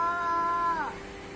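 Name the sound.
child imitating a rooster crowing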